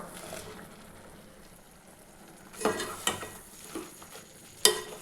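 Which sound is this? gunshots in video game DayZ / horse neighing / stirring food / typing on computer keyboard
stirring food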